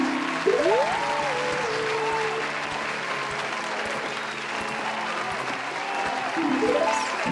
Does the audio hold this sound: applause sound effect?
yes